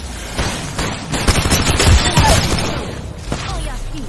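Rapid bursts of gunfire in the video game Apex Legends, loud and close, with overlapping shots and booms rolling through most of the stretch amid game effects.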